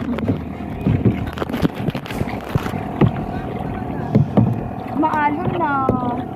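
A canoe paddled hard across choppy water during a team canoe race at Tai Tam Tuk, with splashing strokes and wind buffeting the microphone while people talk over it.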